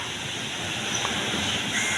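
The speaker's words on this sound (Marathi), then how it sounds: "इकडे समुद्रात आहेत लाटा" A steady rush of surf at Prabhadevi beach, broad and continuous like waves breaking nearby, with some wind noise and no voices.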